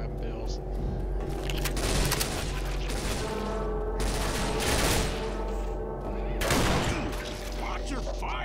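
Gunfire in Left 4 Dead 2, rapid bursts of shots and loud cracks in repeated volleys over game noise, with players talking in between.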